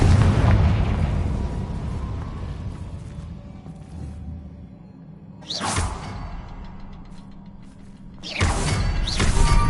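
A Confringo fire spell bursting in the game Hogwarts Legacy: a loud rumbling blast that decays, followed by two sharp whooshing bursts near the middle and end, with no talk.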